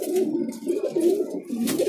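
White pigeons cooing up close in Delhi, a string of soft, low, rolling coos repeating in quick phrases, clear and alone.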